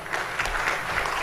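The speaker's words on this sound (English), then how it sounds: "Can we have a huge round of applause, everybody?" Audience applause at a product conclave conference, a steady broadband patter of many hands clapping throughout, fairly loud and even, with no distinct voices.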